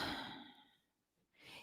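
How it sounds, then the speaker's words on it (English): A person slowly breathing out through the mouth in a relaxation exercise, one long soft exhale that fades to near silence before a brief fresh breath at the end. "I want you to breathe out through your mouth"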